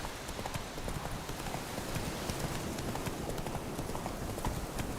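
Roach, the horse in The Witcher 3: Wild Hunt, galloping with a continuous rapid clip-clop of hooves, close and steady, over a dense wash of game ambience.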